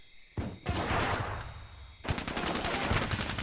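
Rifle fire in the Squad Battles war game, with dense bursts of rapid automatic shots crackling in two loud volleys separated by a brief lull, sustained and close, with no voices over it.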